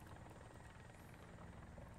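A helicopter in War Thunder whirs with a steady, rotor-driven drone that holds evenly throughout, heard on its own at low level.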